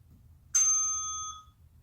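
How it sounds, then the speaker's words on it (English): A single bright timer bell dings once during a movement and mobility exercise session, ringing out clearly and fading over about a second above a faint low background murmur. "You can follow the bell."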